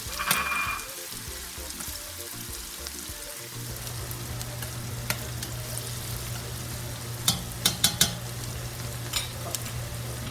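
Chopped onions frying in a pot for Nigerian yam porridge (asaro), a steady close sizzle with stirring scrapes, a low hum running underneath, and a few sharp clinks near the end; no talking.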